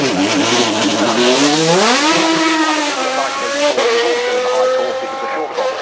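A Maserati MC12 GT1 Centenario race car's V12 engine howls loud and close, its pitch sweeping upward as it accelerates hard, then holding a high, sustained wail before easing slightly.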